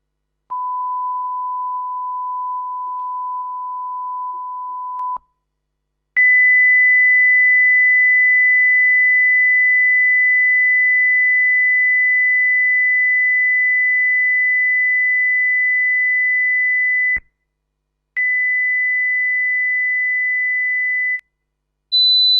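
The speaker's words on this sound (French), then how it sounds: "Alors voilà ce que c'est un son pur maintenant." Steady pure sine tones play alone in sequence: a tone around 1 kHz, then a long higher tone, a shorter repeat, and a brief, still higher tone at the end, each clean and constant in loudness.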